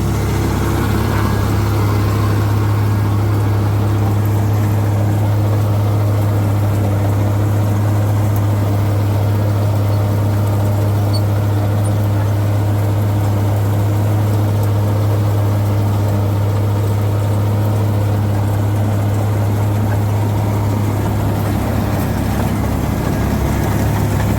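A Sirichareon mung bean combine harvester's side-mounted engine runs at a steady, loud, low droning hum with a constant rumble throughout, close by and unbroken, with no voices.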